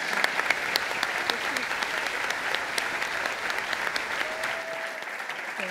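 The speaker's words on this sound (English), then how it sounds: "I wanted to clap for that." A group claps in a school classroom, with steady dense applause that carries on for several seconds and slowly thins toward the end.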